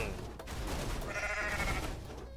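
Goat bleating in the video game Goat Simulator, a loud, wavering bleat close up, mixed with game noise and a few sharp bangs.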